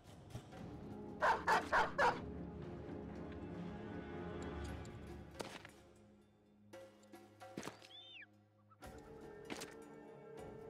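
A short burst of four quick dog barks in the game Battle Brothers, followed by quieter in-game combat noises and ambience.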